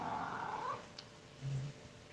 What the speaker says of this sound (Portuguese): o gatinho já começou a miar